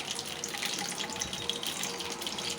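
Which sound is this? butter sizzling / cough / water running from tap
water running from tap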